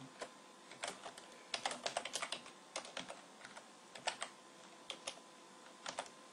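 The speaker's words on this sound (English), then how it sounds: "you're going to want to type the following." Typing on a computer keyboard into a DOSBox window: quiet, close-up key clicks in irregular bursts and short runs, with brief pauses between groups of keystrokes and no talking.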